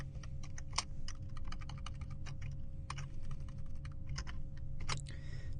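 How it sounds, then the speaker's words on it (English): Steady, fast typing on a computer keyboard fills the stretch, with dense clicking keystrokes and a few louder key hits, close and clear over a low background hum. "I'm actually going to type in ahref"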